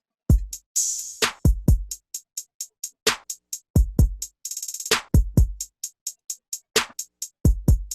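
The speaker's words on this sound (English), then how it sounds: "So the drums sound like this." Sparse trap drum pattern for a beat programmed in Logic Pro X: punchy kicks and snares with short rolled hi-hat bursts, crisp and dry, no bass or voices.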